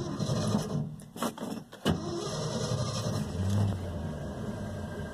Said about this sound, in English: So today we put the dump truck on the road.